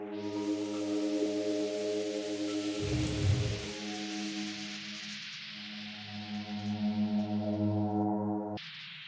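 A deep house synth pad passes through a vocoder as the dry/wet mix rises in a build, sustained layered chordal tones with a brief noisy swell in the middle before cutting off near the end.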